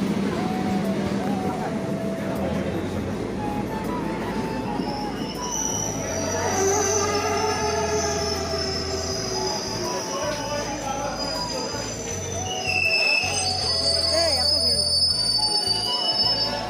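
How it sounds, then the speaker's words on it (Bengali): A train pulls into a station with a steady rolling rumble, squealing wheels and a rising, wavering metallic whine as it draws near. Muffled background chatter and crowd noise run under it. "ফাইনালি গাইস ট্রেনটা আমাদের এসে গেল"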